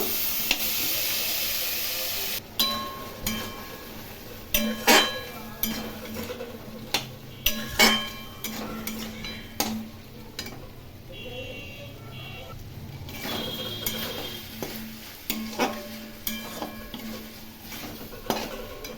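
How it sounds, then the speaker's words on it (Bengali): Prawns and taro being sautéed in a pan for a Bengali curry, steady sizzling under repeated scrapes and clinks of a metal spatula stirring against the pan, close and fairly loud. "ভালো করে কষিয়ে নেবো"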